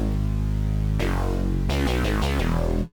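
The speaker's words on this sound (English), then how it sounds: "we're just going to take a look at this bass, which currently sounds like this." A synth bass plays in a music mix, giving deep, thick sustained notes that change pitch in a few steps, pulse with movement, and then cut off cleanly at the end.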